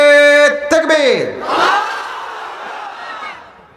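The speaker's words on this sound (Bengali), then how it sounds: "বিবাহিত ভাইরা আমার সঙ্গে তাকবীর দেন।" A large crowd of married men at a Bengali Islamic waz mahfil in Panchbibi roars a loud unified takbir after a leader's harmonic call, the shout swelling then fading into a long diffuse crowd wash.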